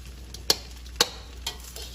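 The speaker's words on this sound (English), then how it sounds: "Keep mixing, keep stirring." A spoon scrapes and taps through buttery fried rice in a pan, with three or four distinct strokes about half a second apart over a faint, steady sizzle, with no voices.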